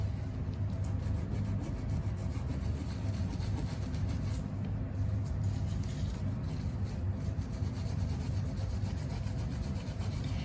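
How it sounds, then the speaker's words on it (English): Tarlatan cloth is rubbed steadily across an inked intaglio copper plate, giving a continuous dry scuffing and rasping texture with faint rhythmic strokes and no talk. "move the tarlatan around so it's on a little bit cleaner surface,"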